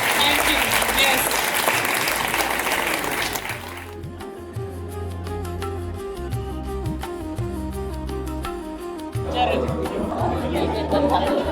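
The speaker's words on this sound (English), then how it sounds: "A big round of applause, please, everyone." Audience applause at a talk in Pune, loud dense clapping that continues steadily with chatter and a voice speaking over it before the clapping swells again near the end.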